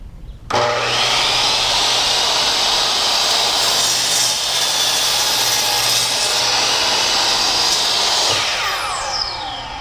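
A DeWALT DW715 12-inch single-bevel miter saw slowly cutting through wood with its stock DeWALT blade, a loud steady whining roar that starts abruptly, holds for about nine seconds, then winds down with a falling pitch.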